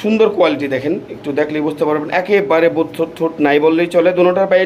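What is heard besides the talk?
None of the usual background noises is heard.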